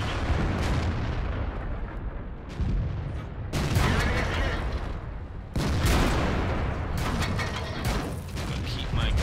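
Tank cannon fire from a T26E4 Super Pershing in the World of Tanks video game, heavy booming blasts with mechanical rumble recurring several times over sustained battle noise, loud and close.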